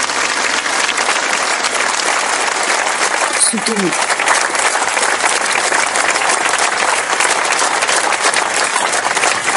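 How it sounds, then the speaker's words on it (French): A large crowd applauds steadily and continuously, with one brief spoken word partway through. "Ce furent d'abord des applaudissements"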